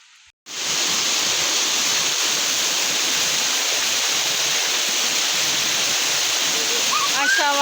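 Water pours down toward a valley at a waterfall in Dereova, a loud, steady, close rush of roaring spray that fills the whole scene, with a faint voice briefly heard near the end.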